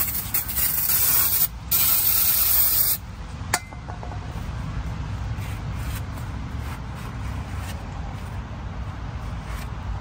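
Spray cleaner hissed onto crud-covered brake caliper pistons in a few loud close bursts over the first seconds, followed by steady scrubbing and rubbing noise.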